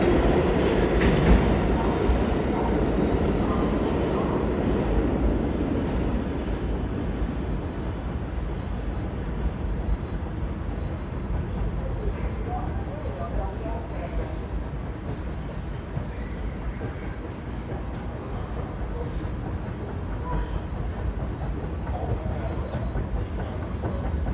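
A New York City subway train rumbles and clatters steadily through a station, a continuous rolling roar with faint wheel squeal, gradually fading slightly.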